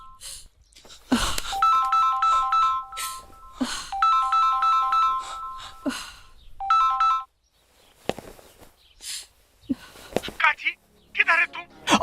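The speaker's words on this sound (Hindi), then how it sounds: "फोन आइल बा।" An electronic phone ringtone in a Bhojpuri film plays a repeating melodic pattern in bursts, with voices talking over and between the rings.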